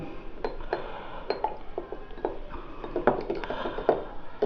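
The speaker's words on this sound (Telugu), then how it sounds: "ఈ వాటర్ని మిక్స్ చేస్తున్నాను ఇప్పుడు." Repeated light clinks of a spoon against glass as municipal water is stirred, irregular stirring taps close by in a quiet room.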